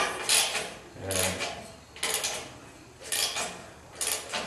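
A ratchet wrench works loose 9/16 exhaust header flange bolts where they meet the exhaust pipe, giving four short ratcheting bursts about a second apart, close up and fairly quiet.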